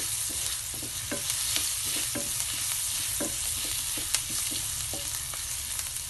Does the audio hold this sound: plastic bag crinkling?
no